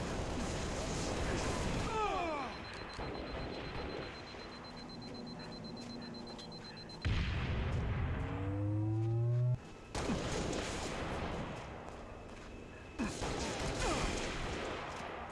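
Dense gunfire and rocket explosions in online Halo multiplayer on PC play throughout, with repeated booms, crashes and whooshing projectiles, and several loud blasts in close succession.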